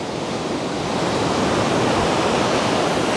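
Ocean waves break near a seaside building in a steady, dense wash of surf noise, loud and close with no pauses and no voices.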